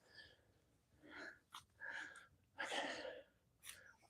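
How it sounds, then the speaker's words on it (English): Heavy, labored breaths from a person digging holes to plant blueberry bushes, several rough huffing inhales and exhales close to the microphone with short pauses between. "I'm sorry if the heavy breathing is coming through too much on the mic."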